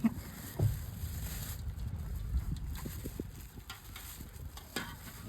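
Oil sizzles in a hot pan while clams are stir-fried, cooked outdoors: a close, continuous fizzing with scattered scrapes and clatters and a little faint talk.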